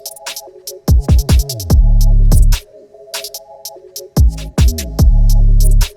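A UK drill beat made in FL Studio carries loud sliding 808 bass notes that drop and glide in pitch under crisp hi-hats, snappy percussion and a repeating melodic line, with no voices.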